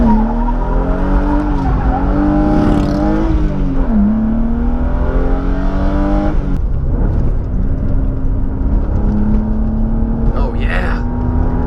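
A car engine drones loudly and steadily as it drives a winding canyon road, its pitch rising and falling through the curves with acceleration surges, close and continuous with a brief tire squeal; a voice speaks faintly over it at times.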